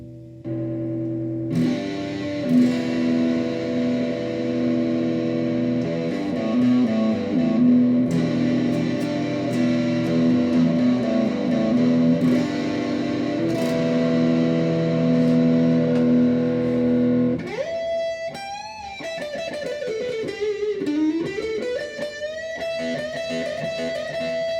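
An electric guitar played through a clean amp channel with reverb on the neck pickup rings out sustained chords, then shifts to sliding, bending notes with a sweeping pitch.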